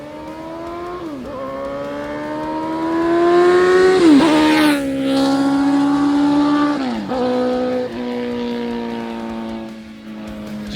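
A supercharged Coyote V8 Ford Mustang accelerating hard through several gear changes, its loud engine note climbing in pitch, dropping at each shift and climbing again, close by and with no talk.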